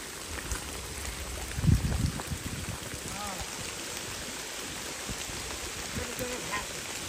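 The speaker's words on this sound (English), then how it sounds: "Tell them how fun it is in the rain today." Steady rain falls on a hiking trail along the Appalachian Trail, a constant close hiss of drops on leaves and ground with a brief louder rustle near the start and no talk.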